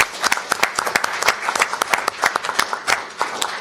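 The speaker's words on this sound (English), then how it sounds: "if you could just give them a round of applause, please" An audience at an ICANN 52 meeting claps in a steady round of applause, many hands slapping in a dense, lively patter that holds for several seconds without speech.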